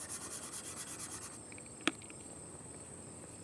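Green chalk rubbed across a drawing gives a soft, close, steady scratchy rubbing for about a second and a half, then quiets, with one sharp click partway through.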